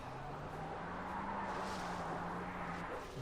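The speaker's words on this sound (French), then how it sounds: "C'est une voiture, on va attendre qu'elle passe." A car drives past in the open-world shooter Far Cry 3, a steady engine drone holding for about three seconds at moderate distance, fairly quiet, with no talk over it.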